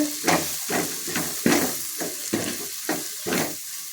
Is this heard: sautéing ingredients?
yes